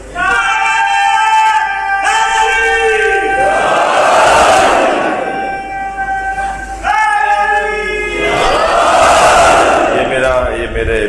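Religious gathering led by Allama Shahenshah Hussain Naqvi, where the audience shouts slogans in loud unison. A leader's sustained call alternates with massed crowd responses in two big surging rounds.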